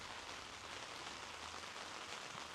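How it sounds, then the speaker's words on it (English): Steady, dense rain hisses without a break on an outdoor building site where a camper-van garage is being built, loud and close, with no voices over it. "You can see how much is raining."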